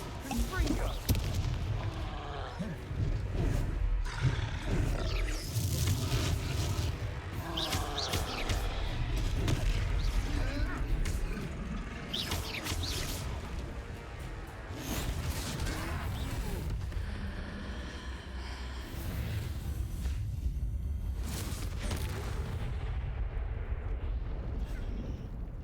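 Troll battle in Hogwarts Legacy with Confringo spell blasts: a dense, continuous barrage of booming explosions and rumbling impacts, loud and close, with game voices mixed in throughout.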